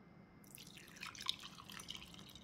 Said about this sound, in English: And you're going to pour hot milk.